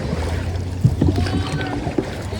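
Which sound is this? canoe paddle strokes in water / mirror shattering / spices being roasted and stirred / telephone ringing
canoe paddle strokes in water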